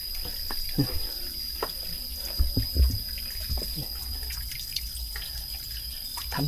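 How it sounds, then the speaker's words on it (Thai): Water trickling and dripping over rocks along a deep forest trail, a steady soft wash with scattered small splashes and drips throughout. "น้ำไหลมาจากหิน"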